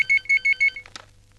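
A telephone rings in a Telugu film scene, four quick electronic rings in a steady rhythm, loud and close, then cut off by a brief clatter as it is picked up.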